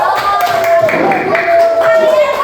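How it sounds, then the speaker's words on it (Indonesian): Students in a classroom clap for a classmate, a short burst of rhythmic hand claps blended with voices. "Tepuk tangan buat Bilkis"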